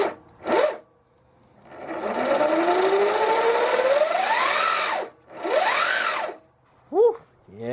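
A motorcycle fitted with a new 420 O-ring chain conversion and Warp9 Racing primary drive is started: a short crank, then the engine revs up in a rising whine, drops, revs again, and settles into brief blips, loud and close.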